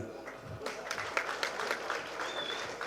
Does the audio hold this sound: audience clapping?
yes